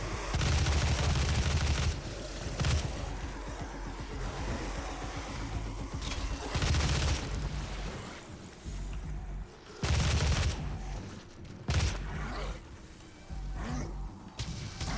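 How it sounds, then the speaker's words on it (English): Rapid, dense bursts of weapon fire from the micro missile mod in DOOM 2016, loud and sustained with repeated volleys and brief gaps, with no voice over it. "Just show off that micro missile mod. You can just absolutely unload."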